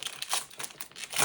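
A Pokémon Prismatic Evolutions card pack wrapper is torn open close by, a quick burst of crinkling foil with sharp rustling bursts over about a second.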